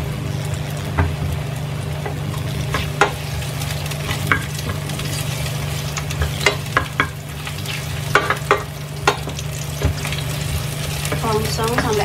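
Shallots and garlic stir-fry in a pan, giving a steady close sizzle with scattered scrapes and taps from stirring throughout.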